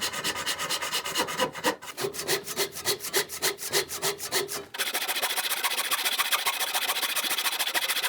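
Hand saw ripping along the grain of wood for a butter knife gift set, first in steady rhythmic back-and-forth strokes, then a denser, continuous rasping, close and clear with no talk.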